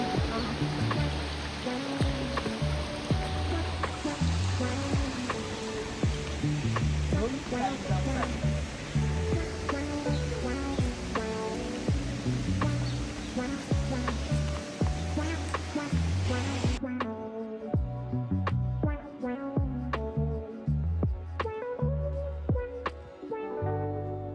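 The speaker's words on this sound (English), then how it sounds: "This is the waterfall." Rushing water at Duden Waterfalls in Antalya, Turkey, a loud, steady broadband roar close by, continuous throughout with people talking over it.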